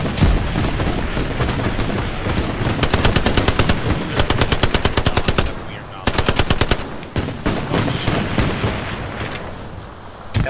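Machine gun fire in the World War II shooter game Hell Let Loose, loud rapid bursts of automatic shots in several long strings, over a busy battlefield backdrop of distant gunfire and ambient noise.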